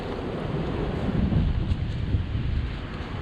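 Wind gusting outdoors at a snowy cell tower compound, buffeting the microphone as a steady low rumble that swells and eases in strength, with no voices present.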